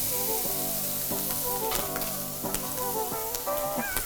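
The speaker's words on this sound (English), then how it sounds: "I wanna get my bacon kind of sizzling first" Bacon sizzles in a hot pan, a steady close crackling hiss with occasional sharper pops over a faint tonal background.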